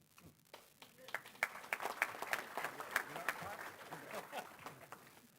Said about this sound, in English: You got to clap for him.